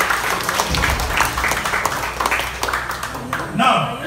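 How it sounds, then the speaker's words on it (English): A crowd at a conference in Baguio, Philippines claps in a busy, uneven patter, with voices talking over the clapping throughout. "Clap for TBC."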